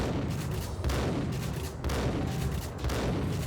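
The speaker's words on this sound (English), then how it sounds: "an S-tier shotgun sound is the one from Max Payne" Max Payne shotgun blasts sound in rapid succession, loud, booming reports roughly every second over a dense, rumbling game soundscape, with no talking.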